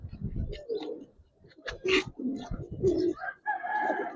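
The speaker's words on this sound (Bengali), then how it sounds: "খুব ফার্স্ট ক্লাস কবুতর ভাইয়া" Giribaz pigeons coo in repeated low, throaty bursts, close by and fairly loud, with brief higher chirps and rustles between the calls.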